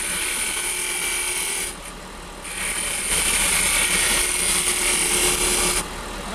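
Skew chisel cutting a wooden chess pawn spinning on a lathe, a steady hissing whir with a brief quieter dip before the cut resumes louder and continuous, no talking.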